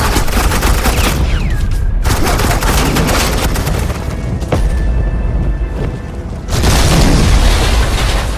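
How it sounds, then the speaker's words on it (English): Sustained gunfire from Batman: The Enemy Within, a loud continuous barrage of rapid shots and booms with a brief lull before the firing swells again. "suppressing fire"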